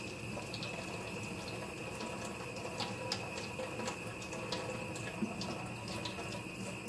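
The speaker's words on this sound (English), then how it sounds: "So what I'm going to do next, I'm going to rinse it off." Tap water running steadily into a sink while a makeup brush is rinsed, a quiet continuous hiss with faint splashes and small clicks, no voices.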